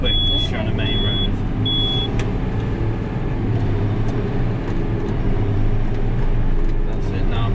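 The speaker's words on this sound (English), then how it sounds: "Now rev it up quick." Tractor engine revving during a driving lesson, a loud, steady low rumble that fills the cab throughout, with people talking over it.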